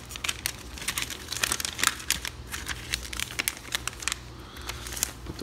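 Plastic wrapping is peeled and crumpled off an iPhone XS Max box in sharp, irregular crinkles and crackles, close up and fairly quiet, with no voices.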